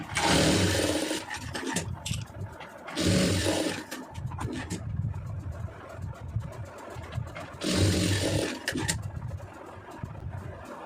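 A sewing machine stitching darts on a blouse runs in loud bursts of rapid mechanical whirring, each lasting one to two seconds, with quieter handling and fabric rustle between runs, close up, with no voices.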